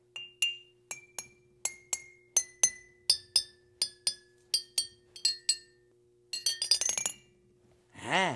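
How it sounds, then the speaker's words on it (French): Glass bottles partly filled with water struck one after another, about fifteen ringing clinks at a steady pace with pitches stepping down like a xylophone, then a quick rapid run of strikes, clear and close over a faint steady hum. "lorsqu'on frappe des objets dans lesquels il y a de l'eau à l'intérieur, eh bien, la résonance sonore est très différente"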